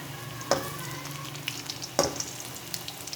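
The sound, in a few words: potato pakoras frying in gram flour batter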